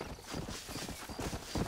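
Hooves clip-clop rhythmically as a horse walks in Red Dead Redemption, played on PS5, the steady close steps continuing throughout without talk.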